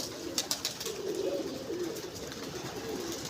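Soft, low pigeon coos rolling on and off, fairly close, heard from a rooftop, with a few faint chirps and light background hiss.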